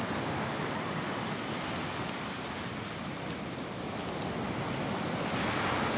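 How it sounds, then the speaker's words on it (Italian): Sea waves break on a beach beyond sand dunes on Denmark's west coast, making a steady, continuous surf roar with wind, loud and unbroken throughout, with no voices. "Sento il rumore del mare"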